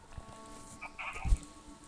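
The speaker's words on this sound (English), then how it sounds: "This is Jack's pink sheep" A pink sheep in Minecraft gives a short, faint bleat of about a second, surrounded by quiet game noise.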